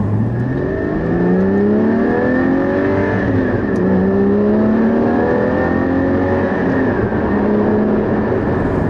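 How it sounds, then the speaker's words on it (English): A Porsche Cayman GT4 heard from the cabin as it drives, a loud steady engine drone with rising and falling gear pitches and constant road roar throughout. "the last sort of couple of meters rolling for me in this GT4"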